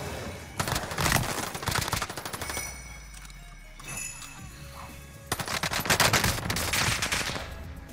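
Gunfire in the video game Warzone, loud rapid bursts of automatic shots in two main volleys separated by a quieter stretch, with a brief voice in the gap.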